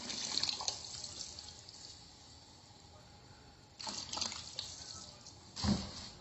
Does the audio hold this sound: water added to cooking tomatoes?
yes